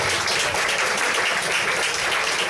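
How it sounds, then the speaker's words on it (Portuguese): Dense, steady applause from a large audience at a civic event in Rio de Janeiro, close and loud and filling the whole moment without a break. "Vocês devem aplaudir o Ará."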